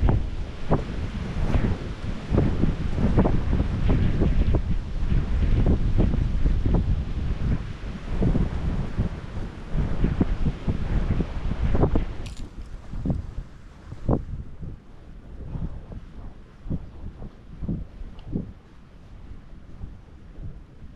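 Strong gusting wind buffets the microphone outdoors at a fishing spot, a loud continuous roar with rumbling bursts that eases and thins partway through, no voices.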